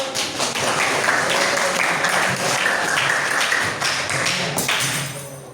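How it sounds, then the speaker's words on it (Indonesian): A classroom audience of students applauding during a history lesson, a dense, close burst of clapping that holds steady, then tapers off at the end. "Terus kasih tepuk tangan dulu dong"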